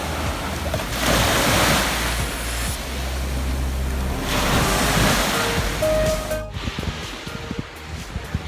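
Ocean waves wash steadily onto the beach beside a seaside restaurant at Bang Saen, a continuous broad roar of surf with gusts of wind, fairly loud throughout, a brief tone and a sharp drop near the end.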